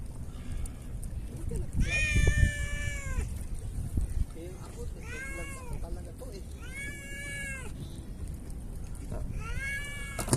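A cat meows repeatedly during shore fishing in Salalah, Oman, several drawn-out meows spaced a few seconds apart, with low rumbling background noise and some nearby handling sounds.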